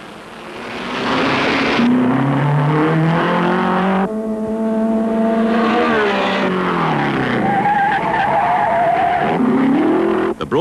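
Alfa Romeo racing cars roar around a post-war race in the Paris suburb of Saint-Cloud, engine notes rising and falling in long sweeping pitches as the cars pass close by, loud and continuous.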